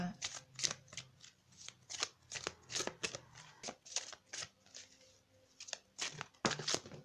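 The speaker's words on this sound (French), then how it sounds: "la carte est tombée." Tarot cards are shuffled over and over in quick riffling bursts with crisp slaps, close and clear, until a card drops out, and a voice speaks softly underneath.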